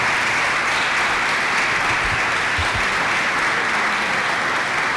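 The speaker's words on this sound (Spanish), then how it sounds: "yo creo que vamos a darle un aplauso a Fernando." Thick, continuous applause from a live audience at a Finect Talks finance event, a uniform wash of many clapping hands filling the whole stretch without talk.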